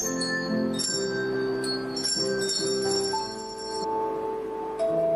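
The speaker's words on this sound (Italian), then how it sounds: "Questo è l'inizio con la campana colorata." A colored orchestral bell rings out clear, sustained metallic tones. Overlapping strikes sound one after another and their long ringing decays layer over each other, close and prominent.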